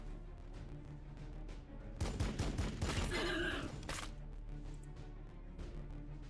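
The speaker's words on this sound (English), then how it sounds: "we take a step back and shoot them up" Gunfire from units in the strategy game Warhammer 40,000: Battlesector, a dense two-second burst of rapid shots and crackling impacts rising out of a steady low background hum, then fading back to the hum.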